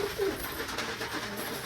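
A pigeon coos softly in a loft cage, a brief, low, throaty call near the start over quiet background hiss.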